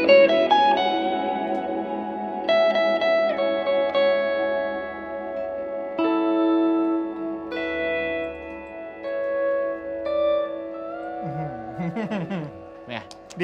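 An electric guitar runs through a NUX Amp Academy amp simulator with reverb, sustained notes and chords ringing out with long echoing tails, ending in a burst of bent, warbling tones.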